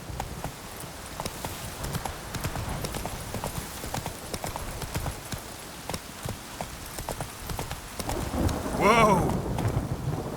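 Roach, a horse in The Witcher 3: Wild Hunt, gallops with steady, rapid clip-clop hoofbeats throughout, with faint rain or storm ambience behind and a louder rise near the end.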